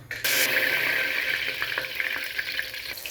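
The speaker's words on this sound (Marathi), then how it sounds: "जिरी मोहरी तडतडली आहे मैत्रिणीनं आता आपण टाकूया कढीपत्ता" Curry leaves drop into hot oil already crackling with cumin and mustard seeds, setting off a sudden loud, bright sizzle that settles into a steady frying hiss with small pops and stirring sounds, no talk.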